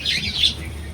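Pet birds chirp at close range in a short burst of bright, high tweets, with a faint flutter of wings alongside and no voices.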